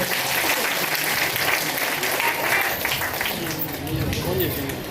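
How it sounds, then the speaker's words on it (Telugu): A crowd claps loudly and continuously at a church dedication festival in Rayachoti, a dense, sustained burst of applause filling the whole moment. "చప్పట్లు కొట్ట గట్టిగా ఒకసారి"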